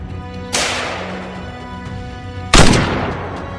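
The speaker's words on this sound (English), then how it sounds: "More gunshots echoed through the forest" Two sharp, loud gunshots about two seconds apart in a forest, each followed by a long rolling echo that fades slowly into the surroundings.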